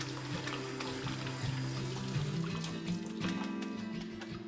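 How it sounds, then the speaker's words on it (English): Cooked ramen noodles being rinsed under cold running tap water in a kitchen sink, a steady close splashing stream with trickling and dribbling throughout, no voices. "strain them out and rinse them in cold water"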